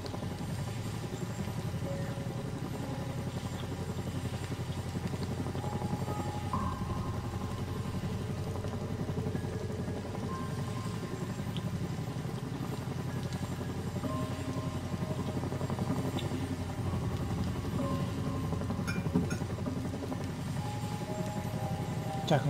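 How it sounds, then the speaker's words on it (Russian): A helicopter in the video game Rust circles overhead with a steady droning rotor and engine hum that holds on for the whole stretch, with no voices over it. "Вертолет что-то не хочет улетать."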